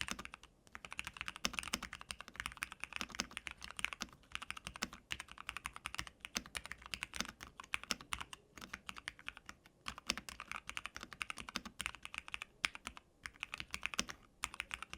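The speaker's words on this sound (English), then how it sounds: "do you like the sound of this keyboard? What do you think about my new custom keyboard?" Rapid, continuous typing on a custom MW65 mechanical keyboard, with crisp, even clacks and occasional brief pauses, heard up close and fairly quiet.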